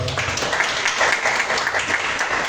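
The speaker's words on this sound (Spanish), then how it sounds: "recibamos por favor a Norberto con un fuerte aplauso" An audience at a creative writing workshop reading breaks into loud, steady applause to welcome a speaker, a dense wash of clapping that continues for the whole stretch.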